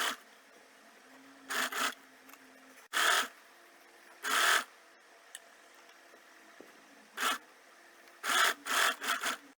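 Sewing machine stitching a piping strip onto the right side of a sleeve, several short bursts of rapid mechanical chatter separated by quiet pauses, close and alone with no voices.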